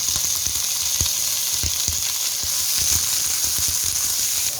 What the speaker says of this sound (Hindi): अब ये प्याज लाइट ब्राउन हो गया। अब इसमें मैं मशरूम्स ऐड कर दूंगी।